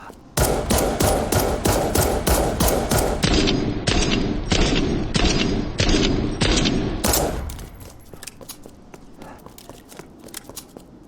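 An MUP handgun fires in Resident Evil Re:Verse, a quick, evenly spaced string of about a dozen loud, close shots over roughly seven seconds, then quieter scattered clicks and thuds.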